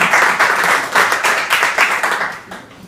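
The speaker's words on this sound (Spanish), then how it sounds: "damos un fuerte aplauso" Applause at an interDocsBarcelona meeting event: an audience claps loudly and steadily for nearly three seconds, then the clapping tapers off toward the end.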